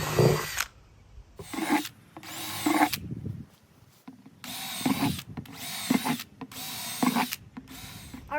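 A power drill bores holes in a plant container in a string of loud, close, whining bursts, each lasting about half a second to a second and separated by short quiet gaps, with no one talking.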